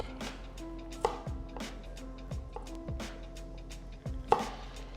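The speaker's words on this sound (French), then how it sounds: "On coupe un petit peu, hop." A knife chops meat by hand on a board for homemade stuffing, with irregular sharp knocks at a steady working pace, close and fairly loud, and a few harder strikes standing out.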